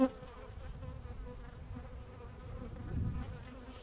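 Honey bees swarming over an open 14-frame beehive as new comb is drawn, a dense continuous buzzing drone close by, rising briefly louder near the end, with no talking.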